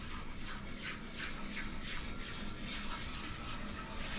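Liquid pours steadily into a browned roux for homemade gravy, a continuous close watery rush with a faint bubbling undertone and no voices.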